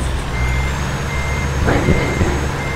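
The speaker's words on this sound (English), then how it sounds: "We're gonna back up here and get a little tuning done." A truck backing up in American Truck Simulator, its reversing alarm giving a steady high electronic tone over a deep diesel idle, loud and close, with a short rattle partway through.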